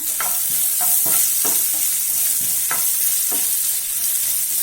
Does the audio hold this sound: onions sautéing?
yes